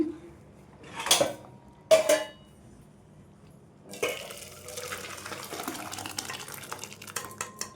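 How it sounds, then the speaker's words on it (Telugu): Gongura pulusu, a sour sorrel-leaf stew, spooned into a bowl: two short scraping clinks of utensil against vessel, then a longer stretch of soft liquid pouring and stirring, close and moderately quiet. "ఈ పులుసుని అయితే ఒక గిన్నెలో వేసేసుకొని పోపు పెట్టేసుకుందాం అండి"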